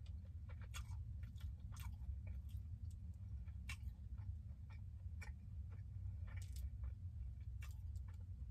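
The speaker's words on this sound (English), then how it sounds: "I'm eating beef jerky" Beef jerky being chewed close up, with soft crunchy bites and wet chewing clicks repeating irregularly over a steady low background hum, while work goes on building a wardrobe closet for a cargo camper van.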